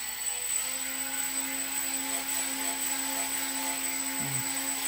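Model helicopter with fuselage and tail rotor, its rotor spinning with a steady high-pitched motor whine and a low humming drone, loud and close, settling at a constant speed.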